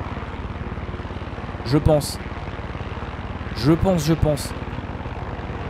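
Steady engine drone of a helicopter flying in the video game Far Cry 6, continuous throughout, with someone speaking briefly over it twice.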